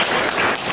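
A brief burst of audience applause at a Buddhist dharma talk, dense overlapping clapping filling the whole moment at a fairly loud level.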